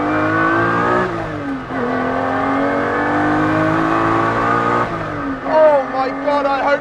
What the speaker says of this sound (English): Watch this, here we go. The revs build.